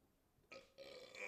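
A man burps close to the mic in two loud, raspy bursts, the second longer and rougher than the first, with no talk over it.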